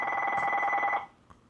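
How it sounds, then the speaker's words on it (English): A telephone bell rings once, a loud close trill lasting about a second before cutting off, followed by a brief faint click. "of course there goes the phone"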